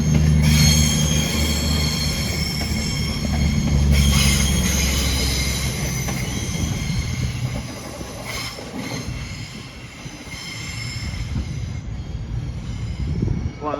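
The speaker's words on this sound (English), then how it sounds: "here we have the train to Shrewsbury" A train rolls into a station on the Wolverhampton to Shrewsbury line with loud, sustained metallic wheel squeals over a heavy rumble, easing slightly as it slows.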